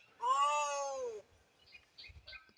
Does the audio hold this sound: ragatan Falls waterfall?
no